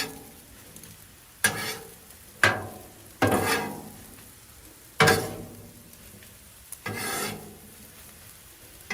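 Veggies, bacon and egg cook on a Blackstone griddle, with a soft sizzle punctuated by several loud spatula scrapes across the flat-top at irregular intervals.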